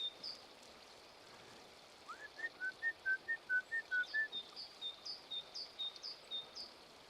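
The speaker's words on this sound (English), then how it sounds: "Bird sounds of Argyll." Birds sing on a lakeside walking path near Loch Avich in Argyll, Scotland, a faint outdoor scene where a clear whistled song repeats in a rhythmic series of short notes, with softer chirps behind.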